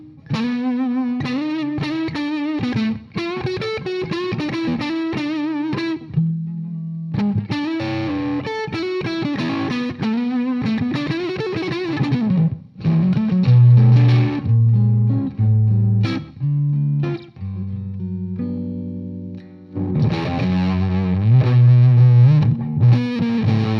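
An electric guitar runs through a pedal pawn fuzz pedal via a Rattlesnake coily cable, playing loud, thick distorted riffs with bending sustained notes and chordal bursts, separated by brief pauses and heard without any talking.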